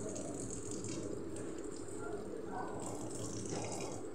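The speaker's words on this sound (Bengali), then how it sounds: "চোখে জল দাও, ভালো করে চোখে জল দাও" Water runs steadily from a tap while a face is being washed, a continuous close splashing gush with voices faintly underneath.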